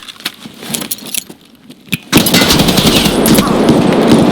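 Rapid bursts of gunfire in an Escape From Tarkov match, loud and sharp with a sustained volley in the second half, following scattered shots.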